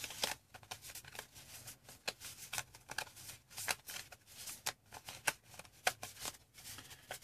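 Cards are shuffled repeatedly at close range, a quick run of crisp riffling bursts with short pauses between them, and no talking.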